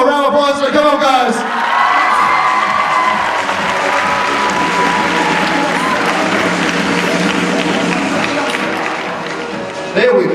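A cosplay contest audience at Supanova Perth bursts into sustained applause and cheering, dense clapping with whoops filling the hall for about ten seconds before tapering off at the end.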